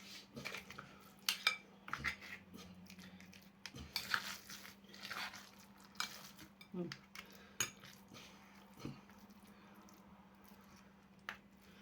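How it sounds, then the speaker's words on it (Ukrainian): Rice is spooned into a fish-shaped onigiri mold on a plate, with soft scraping and clinking of spoon on dish, irregular taps and knocks, close up and quiet over a low steady hum. "Беремо форму, накладуємо рис."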